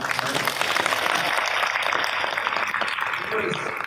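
Audience applause fills a convention panel hall on cartoon voices, a steady dense wash of clapping throughout, fairly distant and even, with no pauses or swells.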